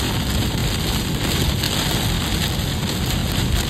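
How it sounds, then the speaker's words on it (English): Torrential rain pounds a vehicle in a dense, constant roar, with strong severe-storm wind buffeting the microphone throughout, in southwest Alberta. "Torrential rain and incredibly powerful wind slammed into my vehicle"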